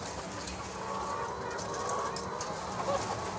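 Hens cluck and murmur inside a caged colony of twenty laying hens on an egg farm, a busy layered chatter of birds heard against steady barn background noise.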